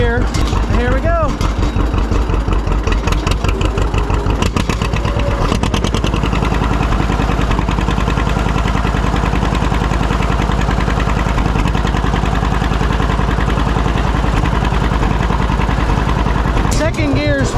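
A vehicle engine runs in gear at a steady drone, loud and close, with someone talking over it and a few clicks and rattles near the start and end.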